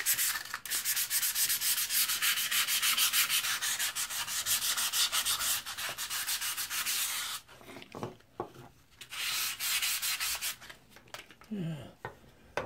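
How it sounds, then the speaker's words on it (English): Steady back-and-forth rubbing of 400 grit sandpaper over the crusty surface of an old edge tool, loud and continuous for about seven seconds, then broken into shorter strokes with pauses and light handling noises. "And then with the 400 grit, just to kind of break through some of that crusty there."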